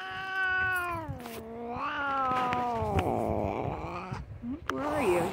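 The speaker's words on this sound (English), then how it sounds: "And the cat is crying." A cat crying indoors in long, drawn-out wailing meows that rise and fall, loud and close, several calls in a row with a short break before a final yowl.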